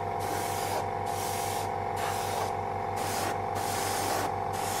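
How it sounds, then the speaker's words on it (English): An airbrush sprays paint onto a model building for a diorama, a close steady hiss pulsing in short bursts as the trigger is worked, over a constant low hum. "So reload the airbrush and back onto the model."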